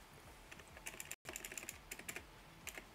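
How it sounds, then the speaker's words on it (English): Rapid, clicky keystrokes on a DAS computer keyboard, close and crisp, with an irregular typing rhythm and a momentary pause partway through. "You guys will have to hear me typing on the stream."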